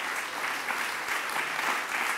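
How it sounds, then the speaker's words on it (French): Steady applause from a conference audience after a talk on collective solar self-consumption, an even wash of clapping filling the whole moment with no break. "On peut applaudir un peu Moulet."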